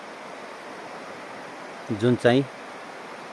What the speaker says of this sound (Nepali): कर्णाली नदी